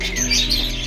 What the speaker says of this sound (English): There's a little bird up here